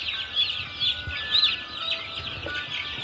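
A cock chicken clucks and gives short repeated squawks while its beak is being burned, heard close over a steady hissing background.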